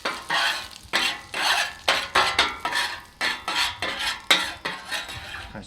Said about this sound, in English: we just kind of like spread that around on the grill so we get some butter flavoring